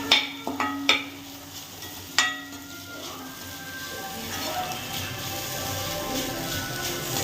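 A spoon scrapes and taps in a pan as beetroot is stirred with spice powder, a few sharp knocks at first followed by soft continuous scraping and a light sizzle.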